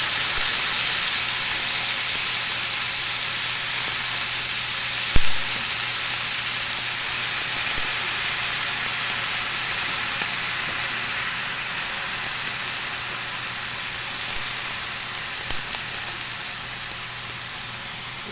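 Ground pork and sliced sponge gourd (patola) with garlic frying in a pan, a steady bright sizzle with a soft constant hiss and one brief knock, no talk.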